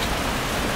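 Rain falls steadily outdoors in the Philippines, a dense, even hiss of drops with no gaps, fairly loud and close and heard on its own without any voices.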